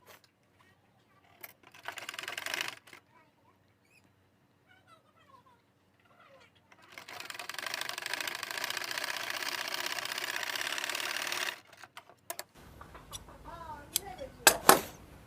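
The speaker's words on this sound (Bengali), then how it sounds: "এখন সেলাইটা করব আমরা ঠিক এই দুই কাপড়ের মাঝখান দিয়ে" Stitching the back pocket of a pair of pants, a sewing machine whirs in short bursts and then runs steadily for several seconds, with quiet handling noises and pauses between runs.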